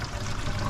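Water drains freely from a newly unblocked drain, a brief, steady rushing gurgle of flowing water at close range with no talk.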